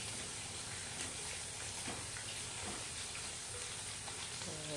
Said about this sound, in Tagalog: gigisa ko muna yung ating hipon na pangsahog